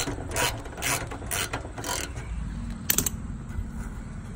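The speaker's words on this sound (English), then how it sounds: "So take out the fender, you have to take out this screw right here" Ratcheting tool clicking rapidly in bursts while backing out a screw that holds a car's front fender, close mechanical ratchet sounds followed by a brief rattle, no talk.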